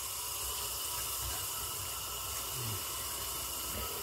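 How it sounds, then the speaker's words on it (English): Water from a bathroom sink tap runs in a steady, faint hiss that continues unbroken and even throughout, with no voices. "Now I'm going to turn the water on, and it should stay where it's supposed to."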